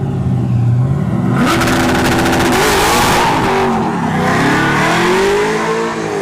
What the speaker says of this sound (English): Spun the tires. 240SX is down.